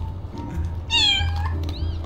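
A single drawn-out cat meow from a video game, Little Kitty, Big City, rises clearly over a low steady hum, followed by a fainter second mew shortly after.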